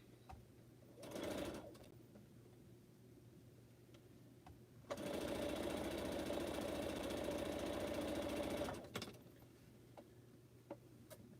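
A sewing machine stitching pineapple quilt blocks runs in two bursts, a short one and then a loud, steady stretch of rapid needle chatter of about four seconds, with quiet clicks and room hum in between.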